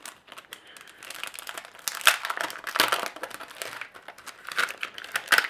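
Sticker packaging being opened for a DIY Christmas advent calendar, close crinkling and crackling of plastic wrap in irregular bursts, quiet and alone.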